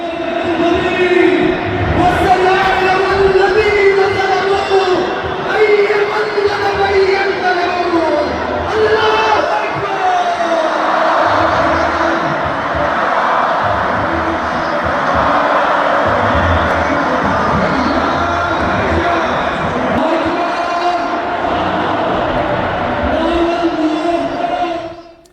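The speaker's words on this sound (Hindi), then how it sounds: "हजारों की भीड़ ने इजराइल अमेरिका के खिलाफ नारेबाजी यहाँ पर की" Thousands of protesters on the street in support of Iran chant slogans against Israel and America, a loud, sustained, rhythmic mass of voices carrying on for the whole stretch.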